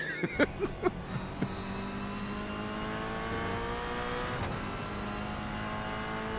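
A touring race car's engine heard on board at VIR, a steady loud drone with a few quick revving blips at the start before settling into a sustained pull, no talk.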